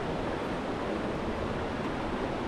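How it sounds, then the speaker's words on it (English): Snow melt river water at Hite's Cove rushes steadily and close by, a continuous broadband wash with no pauses or talk. "enjoy the view and the sounds of the water"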